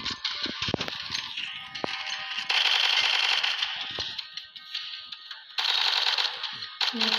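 Automated turret firing at zombies in a zombie-apocalypse survival video game, rapid rattling bursts of gunfire in long stretches with brief pauses, loud and continuous, while people talk in the background.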